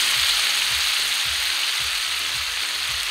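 Green chillies and spring onion greens sauté in a pan for a Maharashtrian Bhogichi bhaji, a constant loud sizzle with rhythmic low scraping from regular stirring roughly twice a second.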